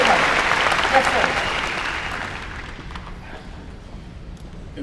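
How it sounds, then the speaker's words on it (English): A crowd applauds loudly at first, the clapping gradually thinning and fading over several seconds. "Give him a round of applause."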